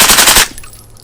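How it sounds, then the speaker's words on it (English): A suppressed rifle fitted with an OSS RAD 9 or RAD 45 suppressor on a range fires a rapid burst of sharp cracks, then the bolt cycles with a brief metallic clank as the noise quickly dies away. "I hear the bolt cycling and clanking back and forth."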